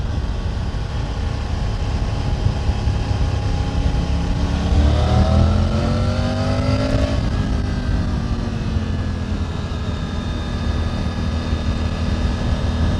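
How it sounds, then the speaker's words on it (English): Harley-Davidson Pan America motorcycle riding through the Great Smoky Mountains, its engine droning steadily under wind noise, then rising in pitch as it downshifts and revs before easing back to cruising. "Need downshift here."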